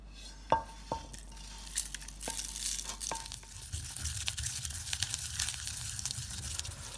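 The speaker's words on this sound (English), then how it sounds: "my Garam Masala is roasting nicely" Garam masala spices roasting dry in a pan, a crackly crinkling sizzle with a few sharp ticks and scrapes of stirring, steady and close, no voices.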